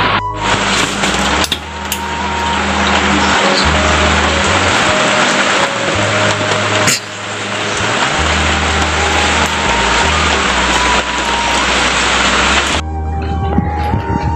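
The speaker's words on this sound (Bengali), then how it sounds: "বৃষ্টি পড়ছে কিন্তু অনেক জোরে" Heavy rain pouring down, a loud, dense and unbroken hiss that fills the whole stretch with only brief dips, and no voices.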